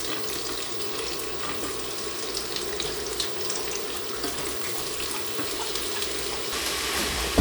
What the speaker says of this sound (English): Once your butter is melted, add the onions to your pot.